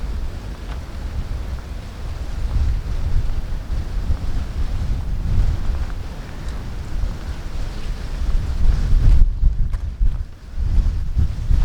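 Strong wind blows outdoors, buffeting the microphone in a loud, continuous low roar that swells and dips, with gusts surging near the end.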